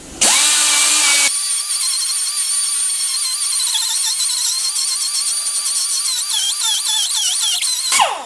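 A power tool grinds an aluminum surface down to clean bare metal, a loud high-pitched whine that starts abruptly, wavers as pressure shifts, and cuts off at the end, with no talking.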